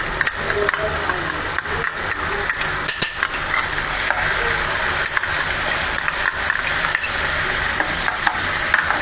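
Barnyard millet (bhagar) roasting in ghee in a wok, a dense dry sizzle with constant scraping and rattling stirring strokes, close and fairly loud, with faint speech in the background.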